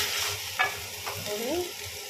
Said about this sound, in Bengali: এটা ভালো করে কষে সোয়া চিলি পুরো রেডি হয়ে গেছে।